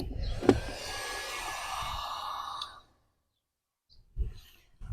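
A heat gun powered from a Grecell T-1000 1000 W portable power station blows with a steady loud hiss for under three seconds, then cuts out into silence before a short rustle.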